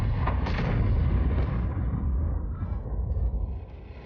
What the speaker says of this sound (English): Arty, you may fire at will.